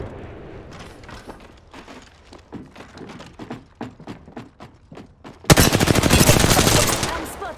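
Video game gunfire: a rapid string of distinct close shots in a steady rhythm, then a sudden loud, dense burst of automatic fire that continues to the end.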